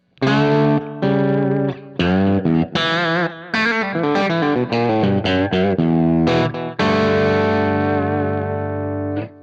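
Distorted electric guitar playing chords and short phrases through an Echoplex preamp and delay into distortion, with repeating echoes trailing each note into the next, loud and thick.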